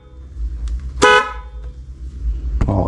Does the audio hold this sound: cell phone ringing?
no